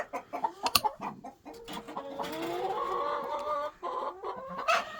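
Chickens cluck in a backyard flock of mixed breeds, Easter eggers among them, while a rooster's rising, drawn-out call builds through the middle. Sharp clucks and squawks come close and fairly loud, and no one speaks.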